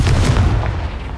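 Explosive Confringo spell blast in Hogwarts Legacy, a loud, deep booming burst that rumbles and fades over about a second.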